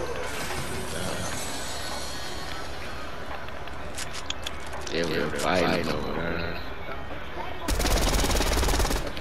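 Gunfire in the Fortnite video game crackles through a busy mix of game sounds, ending in a loud, dense burst of shots, with voices talking over parts of it.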